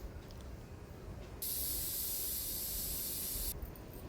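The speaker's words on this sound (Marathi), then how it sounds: "आता झाकण लावून आपण" A pressure cooker holding pea and peanut pulao releases steam in one loud, continuous hiss lasting about two seconds, rising abruptly out of a quiet kitchen background and stopping just as suddenly.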